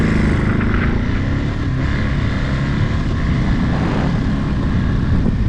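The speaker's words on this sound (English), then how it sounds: "There's that quick shifter in action." A Ducati Monster 937 motorcycle rides through heavy Chicago traffic, its engine droning loud and close throughout. A brief, subtle shift in the engine note comes as the quick shifter changes gear, with no talking.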